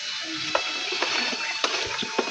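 Coconut milk is poured during home cooking, a continuous liquid gush with a few small knocks and splashes over about two seconds.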